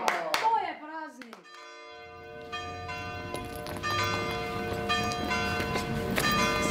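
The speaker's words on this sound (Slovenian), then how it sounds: "Slišita, že poldne zvoni." A church bell rings out at noon during an outdoor Independence and Unity Day celebration, with clear sustained tolls that layer into a ringing wash over background crowd murmur and occasional voices.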